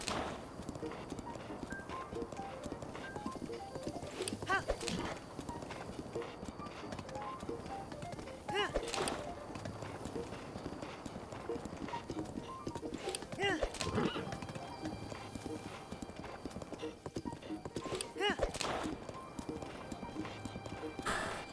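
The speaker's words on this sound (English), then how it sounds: "And the horse crossed the path." Horse hooves clip-clop in a steady trotting rhythm in the Zelda: Breath of the Wild video game, with occasional whinnies and a voice talking over the scene.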